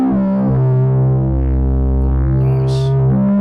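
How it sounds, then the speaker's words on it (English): A GForce Bass Station software synth with distortion holds a sustained, buzzy bass note thick with harmonics, steady and loud for several seconds with a slight wobble in tone. "Maybe add a bit of distortion as well."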